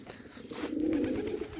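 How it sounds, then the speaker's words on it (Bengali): A Bombay pigeon gives a single soft, low coo from inside its coop, brief and fairly quiet at close range. "বোম্বাই কবুতর আছে ডাকা আছে খোপের ভিতরে অনেক সুন্দর ডাকে"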